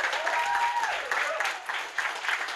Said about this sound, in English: Big round of applause while she makes her way.